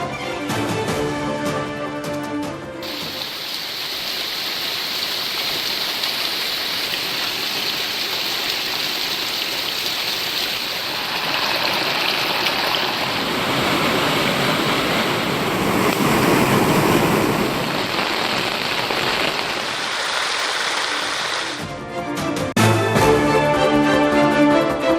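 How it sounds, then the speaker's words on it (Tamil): Heavy rain-fed water gushes down roadside waterfalls along the Western Ghats foothills near Nellai, a dense, continuous roar of rushing water that stays loud and steady throughout, with no voices. "சாலையோர அருவிகளில் ஆர்ப்பரித்து கொட்டும் நீர்."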